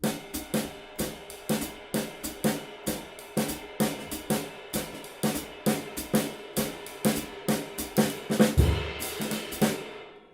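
Uptempo jazz drum kit with dense ride cymbal and rapid snare hits accenting permutation patterns, a fast steady swing with a bass drum thump near the end, loud and close, no voices.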